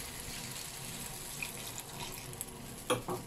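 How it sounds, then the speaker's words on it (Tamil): Water poured from a vessel into a pan of Chettinad chicken gravy, a continuous faint splashing pour with a couple of brief clinks near the end. "ஒரு 2 கப் அளவு தண்ணி ஊற்றிருக்கேன்."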